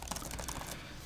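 Typing on the keyboard of an Acer Chromebook Plus 516 laptop, a fast, steady run of soft, close key clicks filling the whole moment, with no talking.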